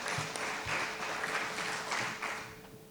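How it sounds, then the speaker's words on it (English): An audience at an opening ceremony applauds, a dense wash of clapping at steady volume with a few louder individual claps standing out near the start, fading slightly toward the end. "I would like you to applaud all of those who helped us in achieving that"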